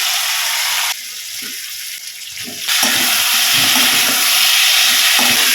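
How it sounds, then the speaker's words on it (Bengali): Potatoes and cauliflower drop into hot spiced oil and fry with a loud, steady broadband sizzle, easing briefly before surging back stronger and continuing close up to the end. "এবার ভাজা দিয়ে আলু আর ফুলকপিটা দিয়ে দেবো"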